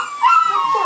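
Puppies give a short, high, whiny yip with a rising, wavering pitch, loud and close, in a brief burst with no talk over it.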